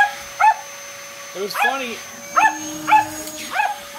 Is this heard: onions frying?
no